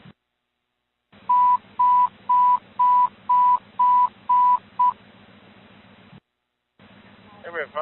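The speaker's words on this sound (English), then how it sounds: "Everett, fire and security standby for station tones." Fire and security station alert tones over an Everett Boeing flightline radio channel: a run of eight evenly spaced steady beeps over a buzzing carrier hiss, followed by a gap and the start of a radio voice.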